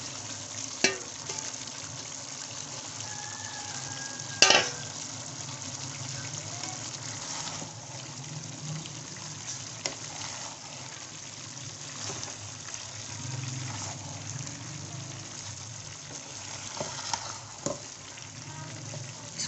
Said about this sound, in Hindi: अब मैं इसमें सारी गोभी डाल दूंगी।